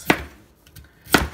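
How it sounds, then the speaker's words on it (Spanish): A knife chops through chayote on a cutting board, two sharp separate strikes about a second apart, close and crisp with quiet between them. "Vamos a cortar el chayote lo vamos a cortar"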